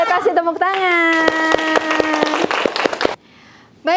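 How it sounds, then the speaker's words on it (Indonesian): Children in a classroom clap in a quick run of distinct claps while a voice sings or calls out over them, then a short hush before more voices. "Oke, kasih tepuk tangan"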